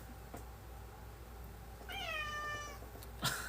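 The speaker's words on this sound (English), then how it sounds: "I don't know if you guys can hear my cat meowing." A pet cat lets out one drawn-out meow that wavers slightly in pitch, at moderate loudness in a quiet indoor room, followed by a brief rustle.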